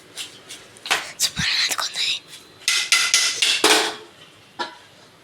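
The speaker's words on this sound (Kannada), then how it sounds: "ಕುಕ್ಕರ್ನ ಇವಾಗ ನಾನು ಮುಚ್ತಾ ಇದ್ದೀನಿ" A pressure cooker lid being closed while cooking soppu sambar, several metallic clanks and scrapes in quick bursts, with quiet whispery talk around them.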